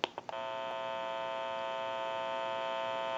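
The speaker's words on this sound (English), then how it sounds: "You may hear a little bit of an electrical hum." Steady electrical hum from a Western Electric Noteworthy telephone's open amplifier, switched on after a few brief clicks and then holding a constant buzzy drone with no talk over it.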